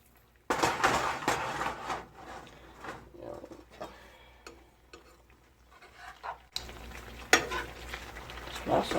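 Lobster ravioli cook in butter in a pan that is swirled around, producing bursts of close sizzling broken by clinks of pan and utensils, with some talk over it.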